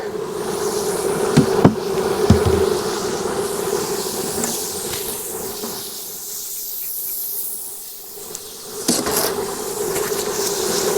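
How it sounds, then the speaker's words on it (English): A dense swarm of bees drones steadily from an opened hive nearby, with brief clattering knocks early and late; the buzzing dips briefly around the middle, then returns. "Ooh, it is a lot of bees."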